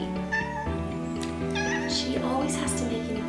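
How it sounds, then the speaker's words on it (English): A pet cat named Lacey meows several times close by indoors, with a person speaking over and between the calls. "The cat's here."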